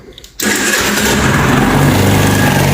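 A fuel-injected 50 cc engine cranks and catches, then runs steadily and loudly up close, with a persistent ticking rattle in its idle.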